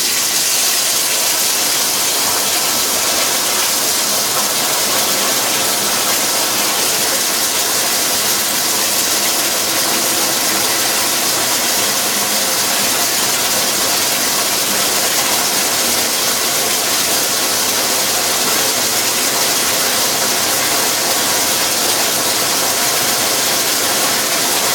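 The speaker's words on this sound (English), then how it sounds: "I'm going to run the water until the temperature is right, and then I'm going to stick the bucket underneath." Tap water runs steadily into a bucket during an aquarium water change for a 20-gallon tank, a loud, constant broadband rush that stays even and close throughout with no voices over it.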